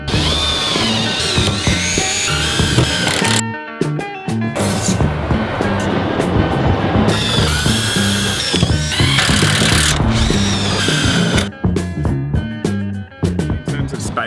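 A power drill drives metal screws to fix panels for a DIY garden build, whining loudly in repeated bursts with short pauses between them, close by and steady.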